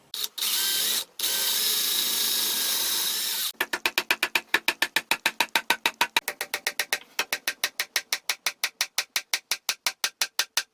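A power drill drives screws through wooden battens into the underside of the centre leaf of an extending dining table: two sustained close whirs, then a long fast train of sharp ratcheting clicks.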